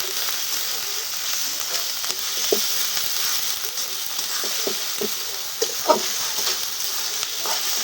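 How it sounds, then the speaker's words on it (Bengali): Ginger and cumin paste frying in oil, a steady hiss of sizzling with occasional sharper pops and stirring scrapes close by. "মশলাগুলো একটু তেলে ভেজে নেব যাতে কাঁচা গন্ধটা না আসে।"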